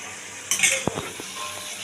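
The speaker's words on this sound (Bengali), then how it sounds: "ভালো করে মিশিয়ে ঢাকা দিয়ে দেবো কম আঁচ করে 5 মিনিট।" Mourala fish curry stirring and frying in a pan, with a short burst of scraping and sizzling and a few clinks of a utensil against the pan, fairly quiet over low background noise.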